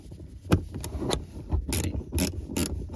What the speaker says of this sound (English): Now we're just gonna take our socket and tighten up with a